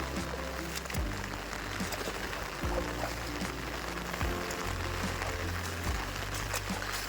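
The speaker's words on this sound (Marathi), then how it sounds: "पाऊस थांबायचंच नाव घेत नाही इकडे" Heavy monsoon rain falls steadily over plowed, waterlogged paddy fields in the Konkan during rice transplanting, a dense constant hiss with a low rumble underneath, no talk.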